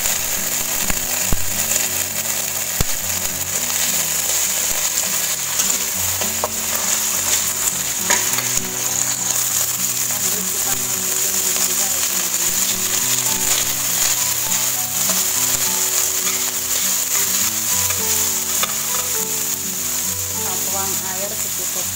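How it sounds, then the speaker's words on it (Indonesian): Green beans are stir-fried in a hot pan, with continuous sizzling and frying and the repeated scrape and clatter of a utensil stirring against the pan, steady and close throughout. "Lanjut kita oseng buncisnya ya."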